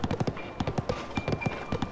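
A horse's hooves clip-clop in a steady, quick rhythm of close, dull thuds in Zelda: Tears of the Kingdom, carrying on under a faint background tone.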